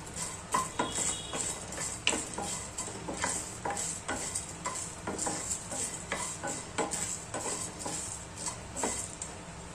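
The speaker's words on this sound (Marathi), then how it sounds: "आता मी विलायची भाजून घेत आहे. विलायचीला फक्त गरम करायचं." Whole cardamom pods dry roast in a pan for garam masala, rattling and ticking as they are stirred, with a faint sizzle and repeated light scrapes of a spoon against the metal, close and steady.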